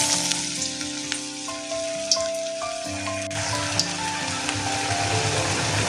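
Thin cabbage and carrot bajji batter fries in hot oil for street-style vegetable fritters, a continuous close sizzle with scattered spattering crackles and a few brief clinks, with a steady tonal hum underneath.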